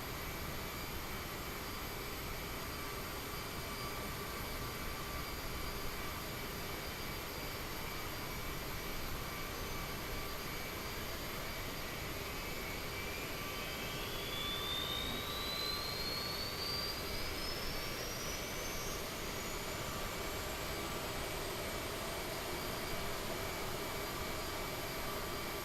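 Jet engines and an auxiliary power unit hum steadily in a CRJ900 flight simulator, a loud, constant whine and roar with a slowly rising tone partway through and no talking.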